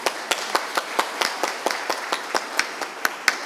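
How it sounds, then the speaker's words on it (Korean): An audience at a forum welcomes a speaker with a steady round of applause, and sharp individual claps stand out in a fairly regular rhythm over the massed clapping. "여러분 뜨거운 박수로 환영해 주십시오"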